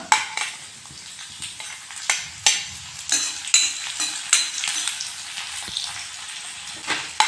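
Chopped ginger and green chillies frying in hot oil for Gobi Manchurian, a bright continuous sizzle broken by repeated sharp clatters of a spatula stirring against the pan, close and fairly loud with no voices.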